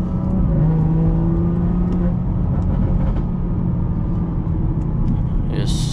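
A tuned BMW 440i engine with 75k miles pulls hard through a gear shift from inside the cabin, a loud steady drone under wind noise, with people talking over it.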